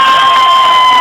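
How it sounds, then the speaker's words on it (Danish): A loud stage show crowd cheering and shouting for two performers, a saturated roar of voices with clapping mixed in, including children's shouts, continuous and overpowering. "Det tæller til 3, og så klapper folk."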